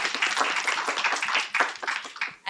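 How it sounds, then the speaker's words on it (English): A student expo audience claps for the student presenters, a steady patter of hands that stays close and fairly even for a couple of seconds, with a faint voice underneath. "Let's give them one more round of applause."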